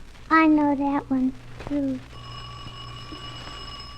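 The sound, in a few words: bell ringing in an old-time radio drama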